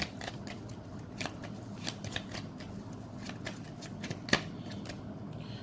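Tarot cards are shuffled close by in soft, irregular riffling and sliding bursts, with a few sharper snaps standing out over a quiet room background.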